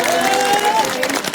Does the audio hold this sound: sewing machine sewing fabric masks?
no